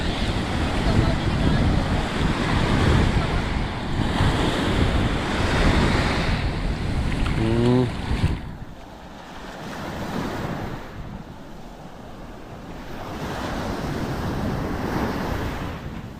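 Rough surf from the habagat monsoon crashes on a sandy beach, a loud, continuous roar of breaking waves mixed with strong wind buffeting the microphone, easing briefly before rising again.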